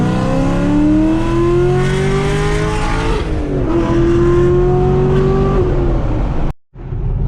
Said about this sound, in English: it's a 2017 Camaro SS, 2SS, 6-speed, and it has the Texas Speed package with a VVT 3 cam